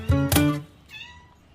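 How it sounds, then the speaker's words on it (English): A cat in a park gives two quick, loud meows close by, followed by a softer, higher mewing cry that trails off. "at very least, you'll find a cat"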